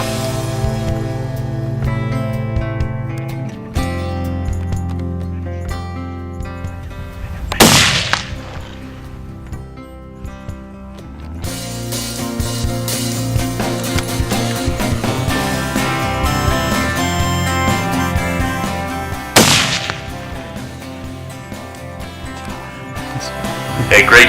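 Two loud, sharp rifle shots ring out about twelve seconds apart during an antelope buck hunt, each a sudden crack over a steady bed of background music.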